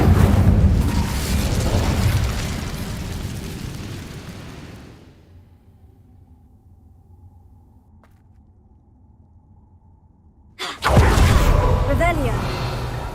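In a Harry Potter video game, the Incendio fire spell bursts with a loud, roaring whoosh that fades into near-silence, then flares up again abruptly with another loud rush.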